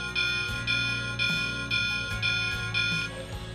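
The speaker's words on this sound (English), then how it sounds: "including its bell" A toy locomotive bell clangs in a steady rhythm, about twice a second, each ring lingering over a low mechanical rumble.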